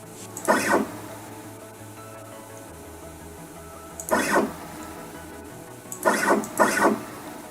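Y-axis stepper motor on a DIY CNC machine turning one revolution at a time, giving three short whirring bursts separated by pauses, the last one doubled, close by over a quiet hum.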